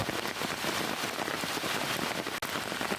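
Steady rain falls on surfaces with a dense, even hiss of countless drops, continuous and fairly close, without voices.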